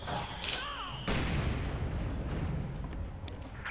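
A mortar firing in the World War II strategy game Company of Heroes 2, one heavy boom landing amid distant battle noise, with a whistling tone just before it.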